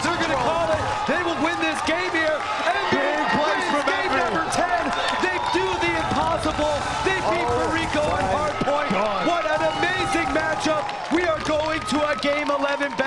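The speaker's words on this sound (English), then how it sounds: "The crowd erupts." A crowd at the Call of Duty Championship 2013 grand finals erupts in sustained cheering and applause, loud and dense throughout, with an announcer talking over it.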